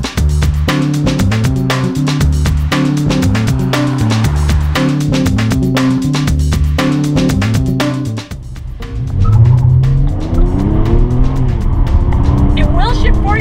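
A car engine revs hard as VTEC engages, rising in a loud, stuttering climb, then drops into a smoother surging pull. A voice speaks over the later part.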